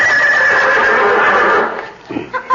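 A horse neighs loudly in one long whinny close to the listener, trailing off into a few short snorts, as a radio comedy sound effect.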